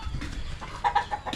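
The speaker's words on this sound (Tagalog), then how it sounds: "nag-away na naman yung mga pato" Ducks squabbling beside a house, a burst of sharp, quacking calls clustered near the end over a low background rumble, fairly close and without speech.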